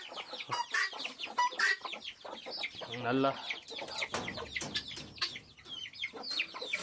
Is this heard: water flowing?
no